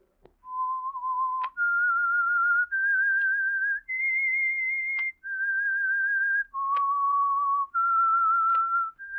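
A person whistles a slow, clear melody of sustained notes stepping up and down, each note held about a second, alone and close.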